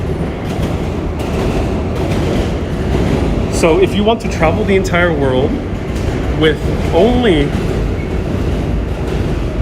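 A 7 subway train passing in Jackson Heights, Queens, a steady rumbling clatter heard close by throughout, with a person talking over it.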